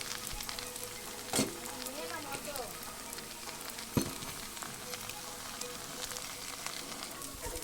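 Chowmein with soya chunks sizzles and fries in a pan. It gives a continuous crackling hiss with a couple of sharper clatters as it is stirred, and it is heard fairly close up.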